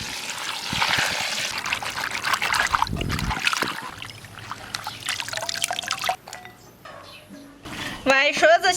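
Tap water runs and trickles steadily as dried eggplant pieces are rinsed in a kitchen, loud and close, with brief splashing near the end.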